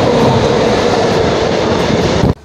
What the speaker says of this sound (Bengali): ট্রেনটা খুবই ডেঞ্জারাস, একদম কাছাকাছি।